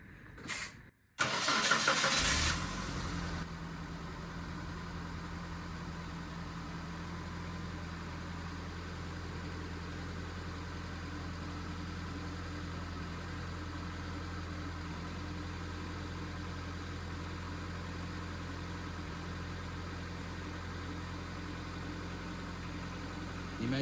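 A Mitsubishi Lancer CE with a 1.8L 4G93 engine cranks briefly, catches and settles into a steady idle, heard close up in a workshop after a thermostat and water temperature sensor change, with a low continuous hum.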